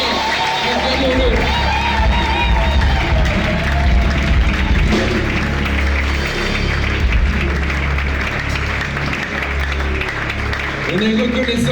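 A church congregation cheers and applauds loudly and continuously, dense clapping and voices filling the space with a strong low rumble throughout.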